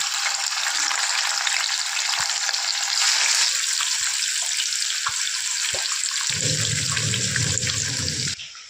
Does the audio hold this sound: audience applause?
no